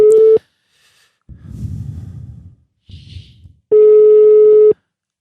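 A telephone line tone sounds during an outgoing call, one short steady beep, then a longer one after a gap, with soft breathing noises in between.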